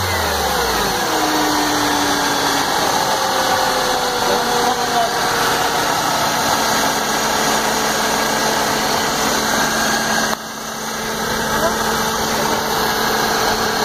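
A 2007 Mercedes E200 Kompressor engine runs steadily at close range, a constant mechanical drone with a faint whine and a brief rev at the start, with a short dip near the end.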